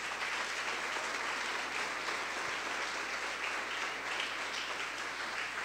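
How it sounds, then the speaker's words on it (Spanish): A church congregation applauds in a service, giving a dense, continuous wash of clapping that holds at an even level from start to finish, with no voices over it. "dale un fuerte aplauso al Señor"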